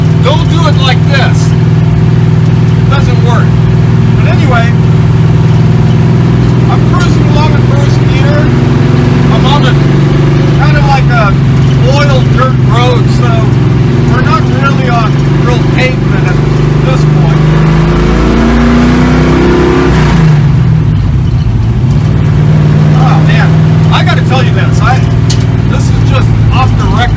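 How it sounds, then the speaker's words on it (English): Wreck Runner car with manual transmission, its exhaust ending right under the cab, droning steadily with a loud resonant engine hum throughout, briefly shifting pitch near the end as a voice talks over it. "the exhaust system stops right under the cab, which resonates"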